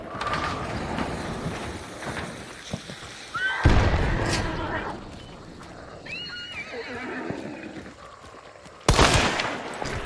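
A grenade blast and gunfire in an online shooter game, a sudden loud burst around the middle and another sharp burst near the end over busy game noise, with a horse whinnying and hooves clopping in the mix.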